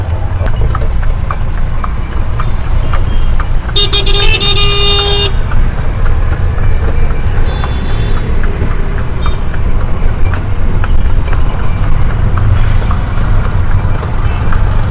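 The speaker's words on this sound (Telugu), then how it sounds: "ఇవన్నీ ఆటోలు వెళ్తున్నాయి" Traffic on a village road in Kanchipuram, with auto rickshaws passing by: a steady loud motor rumble with a horn sounding briefly, heard close from a horse-drawn jatka cart.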